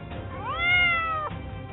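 A tabby cat lets out a single close, clear meow that rises in pitch and then holds steady before cutting off, heard alone against faint background noise.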